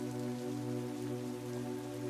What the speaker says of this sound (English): it rains and rains and rains